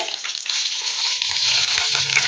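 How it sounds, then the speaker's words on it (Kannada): Mackerel fish frying in a pan, with a steady close sizzling hiss that continues without pause and a faint low stirring or shifting underneath. "ಇನ್ನೊಂದು ಬದಿನ ಚಂದ ತಿರುಗಿಸಿ ಫ್ರೈ ಮಾಡ್ಕೊಳ್ಳೋಣ"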